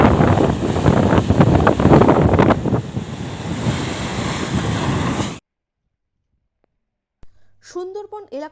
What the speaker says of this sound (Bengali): একেবারে বঙ্গোপসাগর বাঁধ ভেঙে যেন প্রতি মুহূর্তে গ্রামে ঢুকে আসছে